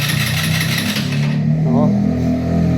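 A Motoposh EVO deluxe motorcycle that had not run for three months is cranked and its engine catches and runs with a steady mechanical rumble, heard close up while someone talks over it.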